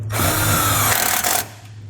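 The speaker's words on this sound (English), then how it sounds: "So we're just running it in with an 8mm socket." A power tool with an 8mm socket drives a ground screw into the floor of a 2020 Chevrolet Equinox, giving a loud, close, whirring buzz that runs for over a second and then stops.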